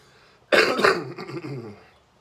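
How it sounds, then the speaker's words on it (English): A person who is ill with a lingering sickness gives one harsh, close cough with a double burst, followed by a rougher, fading throat-clearing rasp. "That was a cough."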